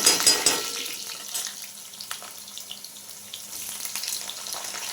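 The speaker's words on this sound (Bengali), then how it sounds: "আলুগুলো আগে লাল লাল করে ভেজে নেব দিয়ে দিলাম আলু" Long-cut potato strips frying in oil in a Bengali kitchen, a close, steady crackling sizzle after an initial loud splash as they go in, with occasional stirring clinks.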